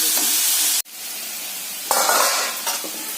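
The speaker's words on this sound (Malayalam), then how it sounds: "മുട്ടയ്ക്കുള്ള സവാള, ഇഞ്ചി, വെളുത്തുള്ളി, കറിവേപ്പിലയൊക്കെ വഴറ്റി നോക്കി" Onion, ginger, garlic and curry leaves sauté loudly in a pan with a hissing sizzle. It cuts out abruptly, then returns with bursts of stirring and crackling.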